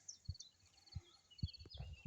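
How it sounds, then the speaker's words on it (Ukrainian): Birds chirping faintly in the distance at a pasture where foals graze, high thin calls scattered over a few low thumps and soft rustling outdoors. "пташки співають"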